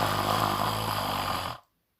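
A voice imitating a dog's snoring, part of a children's story about a snoring dog: one long, steady rasping snore held for about a second and a half, then cut off into silence.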